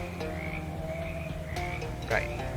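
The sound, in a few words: frogs croaking in video game Shadows Over Loathing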